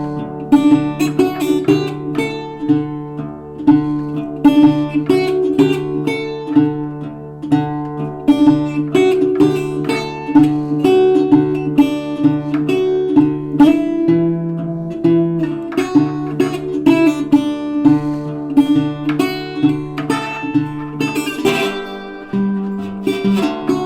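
A slide guitar in open D tuning picks out the melody of When the Saints Go Marching In, with steady plucked notes and slides carrying on for over twenty seconds.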